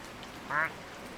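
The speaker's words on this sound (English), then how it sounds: "There's a duck at the bottom of the pool." A single short duck quack, brief and fairly clear, rising over a quiet background.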